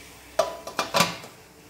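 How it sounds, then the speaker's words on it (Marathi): A lid is set on a cooking pot of millet dhokla batter, giving a few quick metallic clanks and rattles close by, then quiet. "झाकण ठेवून घेते।"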